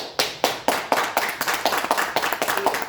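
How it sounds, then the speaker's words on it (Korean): A few people clap during a religious lecture, about a dozen sharp separate claps in an uneven rhythm, close and alone with no talk. "박수."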